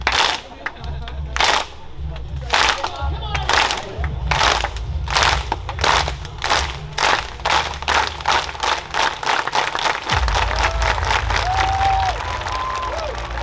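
At an IRONMAN 70.3 triathlon start, a large crowd performs the Icelandic clap: loud, unison claps about every half second over a low rumble of pumping music, with a rising tonal whoop near the end and some talk underneath.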